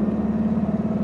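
Air-cooled flat-four engine of a Porsche 356 running steadily, a close, even low hum with a throbbing pulse and no voices.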